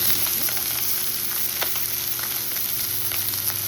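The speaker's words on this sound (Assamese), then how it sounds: "এতিয়া এই চাইডতে পিঁয়াজখিনি দি দিলে" Onions frying in oil beside koi fish in a pan, a steady close sizzle and crackle running throughout with no talk.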